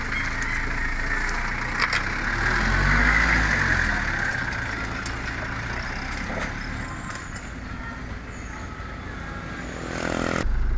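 Engine of a Mazda Bongo van with a WL engine and a converted mechanical injection pump, running steadily during a road test, heard from inside the cab as a loud, constant mid-pitched drone that swells near the end.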